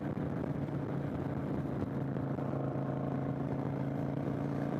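A 2015 Kawasaki Vulcan 900 Classic cruiser motorcycle being ridden, its engine giving a steady, close, continuous rumbling drone with constant road and wind noise and no real change in pitch.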